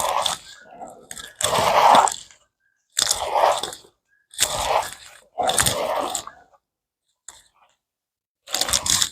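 Bare hands squish and knead a raw meatloaf mixture seasoned with salt and pepper, heard as five or six close, wet squelching bursts separated by brief pauses.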